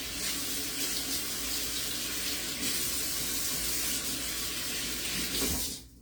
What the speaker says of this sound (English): rinse my hands one more time